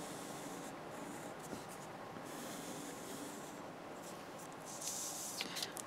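Pen writing out a maths problem, heard as soft, continuous scratching with a few faint taps over a steady low hiss and no talking.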